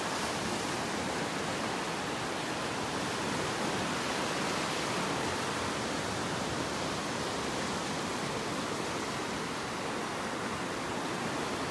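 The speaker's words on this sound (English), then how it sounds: "Love listening to these little waves coming in." Small waves wash in steadily on a beach in North Naples, Florida, on an early morning walk, a continuous soft broadband surf hiss with no talking.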